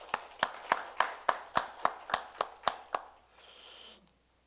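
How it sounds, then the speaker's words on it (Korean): Steady rhythmic clapping at a church service, about eleven evenly spaced claps sounding close and distinct, followed by a short soft rustle before fading to quiet. "우리 한번 하나님 앞에 박수 한번 쳐드리죠"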